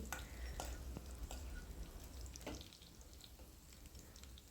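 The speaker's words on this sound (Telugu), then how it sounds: "ఎండుమిర్చి వెల్లుల్లిపాయ కూడా దోరగా వేగాలి" Dried red chillies and garlic fry in a pan for a bottle gourd curry, giving a faint, steady sizzle broken by a few soft stirring clicks, with no voices.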